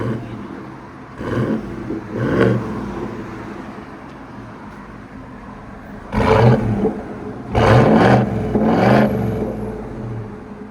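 A 2019 Cadillac Escalade with a 6.2L V8 and Corsa cat-back sport exhaust revs outside, with three loud, throaty bursts rising over a steady idle rumble, the last two close together.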